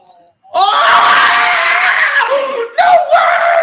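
A football commentator screams loud and close after Ireland's late winning goal in a 2026 World Cup qualifier. One long, raw shout breaks off briefly and then surges again.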